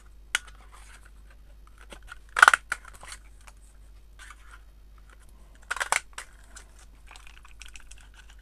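Scissors snip paper circles for an art journal page in short, crisp bursts of close cutting, separated by quiet pauses and light paper rustling.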